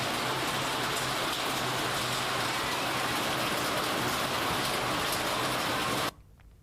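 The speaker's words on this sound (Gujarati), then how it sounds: "બારડોલીના બાબેન ગામમાં વરસાદ પડ્યો" Steady, dense rainfall pours down in a village near Bardoli, a continuous even hiss that stops abruptly near the end.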